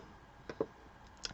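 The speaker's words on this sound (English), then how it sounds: "you hear a lot more clicking because that's me just trying to find the part where I can finally speed up" Mouse clicks from someone playing the Supercard game on the BlueStacks emulator: a few quiet, sharp clicks, one near the middle slightly louder and another cluster late, over faint room hiss.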